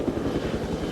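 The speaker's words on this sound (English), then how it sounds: "the all-seeing helicopter has him in its sights" Police helicopter hovering overhead during a car chase, a steady rotor chop and engine drone filling the moment with no voices.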